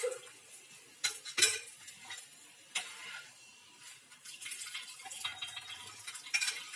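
Cooking a chapati on a pan while oil is added: scattered clinks and scrapes of metal utensils against the pan, a few sharp knocks, over a faint, soft sizzle that thickens toward the end; no talking.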